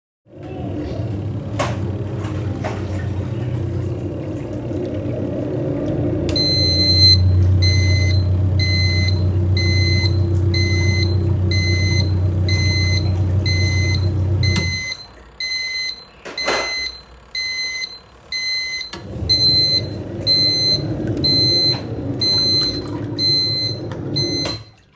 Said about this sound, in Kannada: ಬೀಪ್ ಸೌಂಡ್ ಬರುತ್ತೆ ಮುಗ್ದಿದ ತಕ್ಷಣ